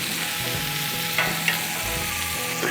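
Large steak pieces fry on a Blackstone griddle with a loud, steady sizzle throughout, marked by a couple of short spatula scrapes.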